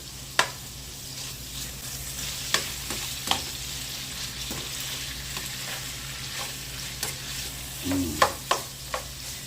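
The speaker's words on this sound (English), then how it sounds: "And now we'll drop our chicken in. I want to get a good sear, good browning on this" Chicken pieces searing in a hot pan for chicken mac and cheese, a constant close sizzle punctuated by sharp utensil clicks and scrapes, with a burst of taps near the end.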